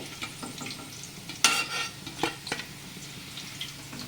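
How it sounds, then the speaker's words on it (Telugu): Chicken pieces sizzle softly in hot oil, with a sharp burst of crackling as they are added, then scattered stirring scrapes and light clinks. "మనం వేసేటప్పుడు సౌండ్ వస్తుంది చూడండి గిన్నెలోకి అయితే"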